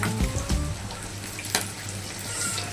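Pieces of paneer fry in hot oil, giving a continuous crackling sizzle with a few sharper pops, close and steady.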